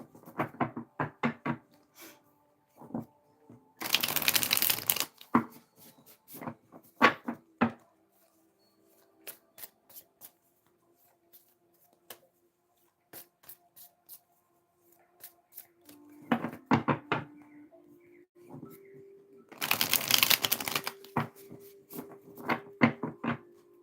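Tarot cards are shuffled in quick bursts of riffling and flicking, several separate runs of crisp papery slaps spread across a quiet room, close to the microphone.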